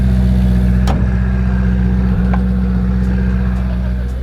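Ferrari 488 Pista engine pulling away, a loud steady low drone with mid-range growl close by and a couple of brief clatters, no talk over it.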